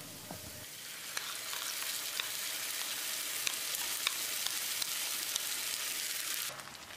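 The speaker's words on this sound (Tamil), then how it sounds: "வெங்காயம் இந்த அளவுக்கு வதங்கினது போது இதில் நம்ம கலந்து வச்ச பேஸ்ட்டை ஊற்றிடலாம்" Masala paste poured into sautéed onions in a pan for a dhaba-style Hyderabadi chicken, a sudden burst of sizzling that keeps frying steadily with light stirring clicks, close, then quieting at the end, no talk.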